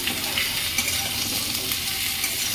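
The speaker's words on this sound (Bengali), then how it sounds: "এইবারে কুমড়োটা আর আলুটা, এই যে কুমড়ো আলুটা ভাজবো।" Pumpkin and potato pieces fry in a pan of oil with a steady, even sizzle. The sizzle runs unbroken and fairly loud, close to the pan, with no one speaking.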